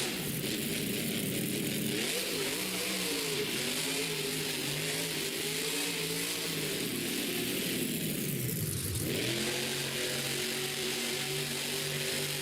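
Monster truck engine at a Monster Jam World Finals qualifying race, a loud sustained roar with wavering revs, then a sharp drop and renewed surge as the driver lifts and accelerates again out of a turn.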